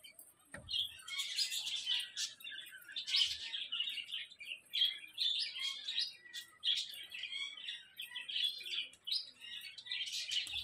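Busy, continuous chirping and tweeting of finches, many calls overlapping, with a faint soft coo of doves now and then in the background.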